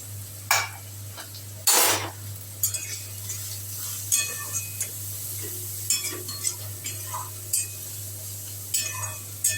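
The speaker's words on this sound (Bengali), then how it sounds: "এটা একটু ভাজা ভাজার হবে, আমি এটা কভার করে দিলাম" Periwinkle snail curry with chilli powder frying in a pan, with a soft sizzle underneath and a spoon scraping and clinking against the pan in scattered bursts, close and clear.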